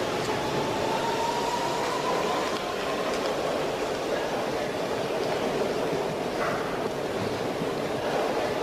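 A train runs steadily in the background, a continuous low rumble with wheel and track noise holding at a constant level, while an announcement says the service is ending.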